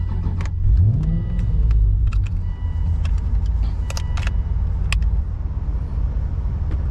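An Aston Martin V8 Vantage GT4 race car fires up with a start-button press: the starter whirs, the V8 catches and rises briefly, then settles into a loud, steady, rumbling idle heard close up.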